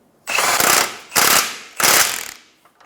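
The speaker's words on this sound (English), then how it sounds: "Using a wrench to hold the nut up top, I'm going to tighten the bolt going to the rear of the control arm." A ratchet wrench tightens a control arm bolt on a 2014-2019 Toyota Highlander, giving three loud close bursts of rapid clicking separated by short pauses, with no talking.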